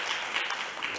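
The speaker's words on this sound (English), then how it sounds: "please welcome her with an extra big round of applause" Audience at a conference session on digital-based sustainable finance applauding to welcome a speaker on stage, a brief, fairly faint, continuous patter of clapping.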